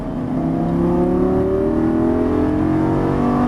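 A Lamborghini Gallardo LP550 accelerating hard on a racetrack, its engine note climbing steadily in pitch, loud and close throughout with no talk.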